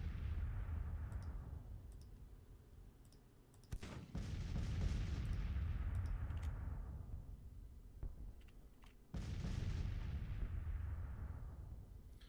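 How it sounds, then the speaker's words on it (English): Artillery duel in the Civil War strategy game Grand Tactician: The Civil War, with distant cannon booms rolling and fading in long reverberant tails, a few sharp reports and faint clicks between them. "You can hear the artillery duel."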